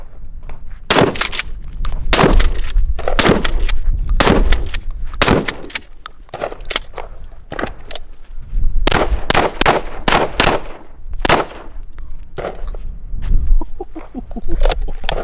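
A shotgun fires repeatedly at a shooting range: loud, close blasts in irregular bursts, some spaced apart and others in quick succession, with brief quiet gaps between them.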